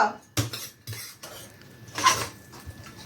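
Metal spoons and serving utensils clink against plates and pots while food is dished out for a Saraswati puja offering at home, a few sharp clatters spread over a quiet background.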